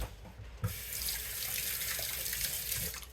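Fresh corn rinsed under a running kitchen tap, a steady rush of water into the sink that starts after a short knock and continues evenly, close by with no talk.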